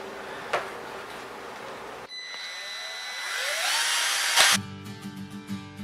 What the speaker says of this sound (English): I'm now going to take a drill and I'm going to drill a hole